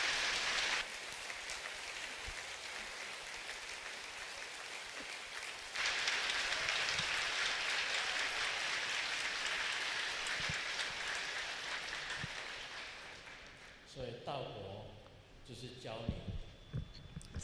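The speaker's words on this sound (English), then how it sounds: "applause" Audience applause at a dharma teaching in a Buddhist temple, a dense rain-like patter of many clapping hands that swells loudly partway through, then thins into scattered claps and fades as voices take over.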